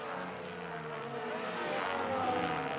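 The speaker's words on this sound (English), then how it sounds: "the sound of V6 turbocharged engine with the 50-50 split between the internal combustion engine and electrical power" A Formula 1 car with a V6 turbocharged hybrid engine drones steadily at high revs, a sustained engine note heard from trackside at moderate distance.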